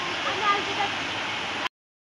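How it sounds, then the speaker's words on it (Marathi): The flooded Pavana river rushes and roars as high water pours over a bridge, a steady, broad hiss of fast-flowing water that continues evenly, then cuts off abruptly. "किती फुल नदी झालेली आहे बघा."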